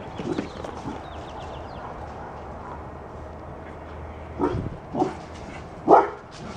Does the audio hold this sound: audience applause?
no